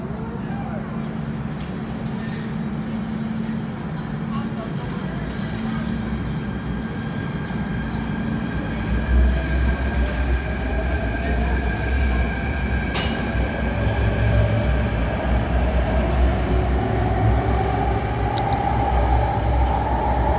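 An MTR K-stock train runs through Nam Cheong Station, a steady loud rumble of rail traffic with a rising low roar as it draws near and a faint whine of motors, with someone talking over it.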